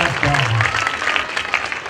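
Audience applause at a school annual day celebration, clapping mixed with a speaking voice over a PA and crowd noise, fairly loud and short.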